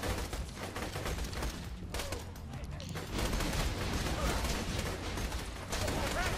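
Dense bursts of rapid gunfire fill a Borderlands 2 firefight, loud and continuous with brief shifts in intensity, mixed with other game effects and voices.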